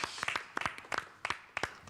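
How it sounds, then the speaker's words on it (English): A studio audience gives brief, scattered clapping after a music quiz game on a live morning show. The claps are soft and sparse, close together for under two seconds. "Another round of applause for our brilliant game of Music Match"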